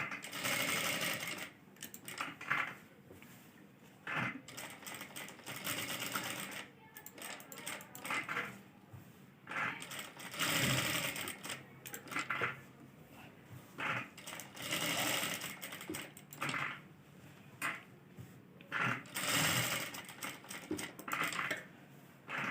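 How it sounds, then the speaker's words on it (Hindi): Sewing machine stitching along the outer edge of buckram on a dress neckline, with short rapid bursts of mechanical whirring and clatter separated by brief stops, moderately close. "बुकरम की बाहरी साइड किनारे किनारे पे सिलाई करनी है"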